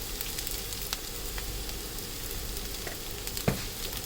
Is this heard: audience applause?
no